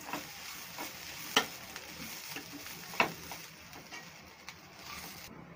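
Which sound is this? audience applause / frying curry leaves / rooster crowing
frying curry leaves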